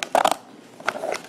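Scissors snipping a strip off a piece of material while making a simple phone tripod: a couple of quick close crunchy cuts, a short pause, then another softer snip, loud and near with no talk.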